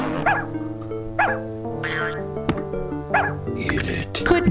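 In the Fatty Bear video game, a cartoon puppy yips and barks in repeated short bursts against a looping musical backdrop, with a whimper near the end.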